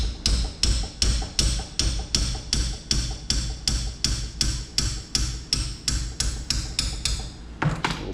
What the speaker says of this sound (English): I'm going to give us a wrap with the hammer a little bit.